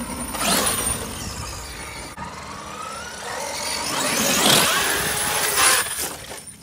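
Brushless Big Castle XLX2 800kv motor in a Kraton 8S RC truck on a 4S 11,000 mAh Gens Ace pack, whining and revving in bursts that rise and fall as the truck drives, jumps and lands outdoors.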